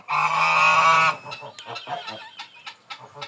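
A loud goose honk blares for about a second, followed by a quick series of shorter honks and cackles from several geese nearby.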